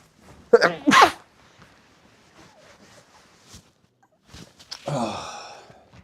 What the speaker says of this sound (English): I've been sneezing like this all day as well.